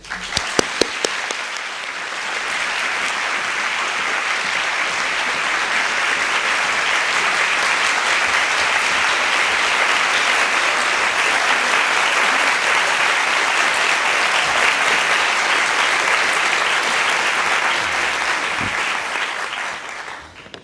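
Sustained audience applause in a hall for an on-stage interview welcoming actor Gary Oldman, steady and full for about twenty seconds with a few claps at the start and end.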